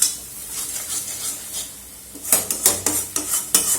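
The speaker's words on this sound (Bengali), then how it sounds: "তাকে এইভাবে আমি নেড়ে নেড়ে পুরোপুরি শুকিয়ে নেব।" Lote fish jhuri being stirred and dried in a pan, a soft sizzle at first, then a quick run of sharp metallic scrapes and clinks from a spatula against the pan, close up with no talking.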